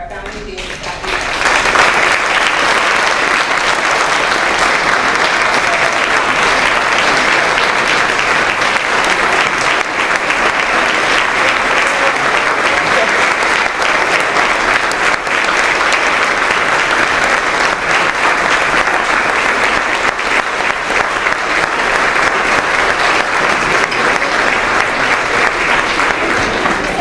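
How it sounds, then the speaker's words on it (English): Sustained audience applause honoring a founding dean at a university mentor celebration, a steady dense wash of many hands clapping that runs unbroken for nearly half a minute. "join me in a round of applause for our founding dean, Scott E."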